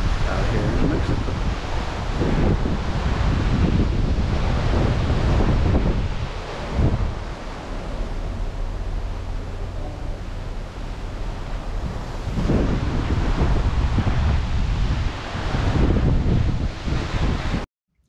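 Ocean waves wash and wind buffets the microphone on the Disney Wonder cruise ship at sea off Mexico, a loud continuous roar that swells and eases in long surges.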